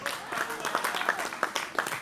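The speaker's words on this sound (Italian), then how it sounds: "Iniziamo subito a salutare con un bel applauso Tino Bazzoni" An audience claps for a performer at an outdoor Sardinian festival, a short burst of dense, lively applause close by with a voice briefly underneath.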